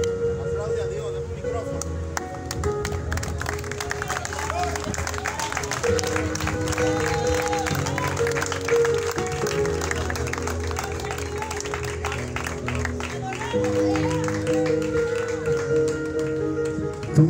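A congregation at an evangelical church service claps for God through a dense, sustained wash of applause that runs the whole stretch, mixed with loud music and a preaching voice.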